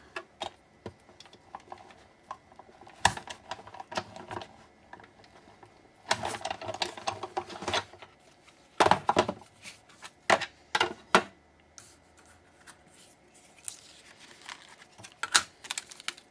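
A die-cutting machine cranked by hand to cut a die for a craft project, giving irregular clicking and ratcheting bursts, close and sharp, with quiet pauses between turns.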